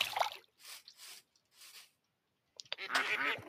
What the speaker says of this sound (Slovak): To je káčer s kačatami.